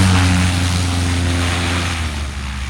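A STOL propeller aircraft lands at the Sun n Fun demo, its engine a loud, steady droning hum with a low rumbling tone that slowly fades a little over a few seconds.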